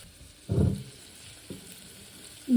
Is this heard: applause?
no